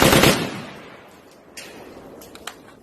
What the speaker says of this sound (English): 20 rounds without the suppressor.